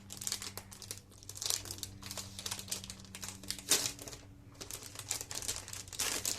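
Plastic wrapping around a boxed SK66S 60% Bluetooth keyboard being crinkled and handled during unboxing, a close, continuous run of crackling and rustling with short pauses.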